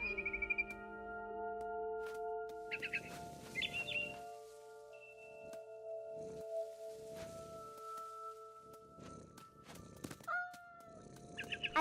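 A cat meows a few times in the video game What Remains of Edith Finch, short soft cries close up, mixed with birdlike chirps and steady game ambience and music tones.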